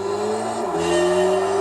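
Mitsubishi Lancer Evo VI GSR Tommi Makinen Edition racing in Gran Turismo 3, a loud, steady engine drone that dips in pitch as it shifts gear mid-run, then climbs again, with faint tire noise.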